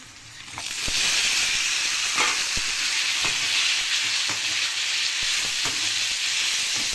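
Tomatoes dropped into dal frying in a hot pan set off a loud, steady sizzle that swells after the first second, with occasional clicks of a spoon stirring.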